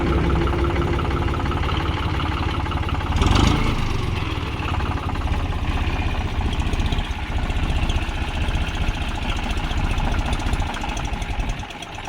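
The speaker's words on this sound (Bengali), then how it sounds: "তো বন্ধুরা, গাড়িটা আস্তে আস্তে করে পিক আপ দিচ্ছে" A John Deere 5042 tractor engine labors to pull out of mud, a close, continuous rumbling throb with a brief louder surge early on, then steady working revs.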